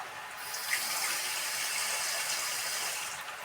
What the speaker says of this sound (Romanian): Și punem apă.